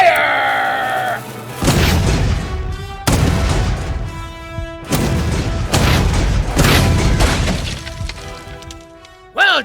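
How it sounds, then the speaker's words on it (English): Ship cannons fire in an audio drama of a pirate sea battle, several heavy booming blasts in quick succession, loud and close, with voices shouting between them. "Cannons ready!"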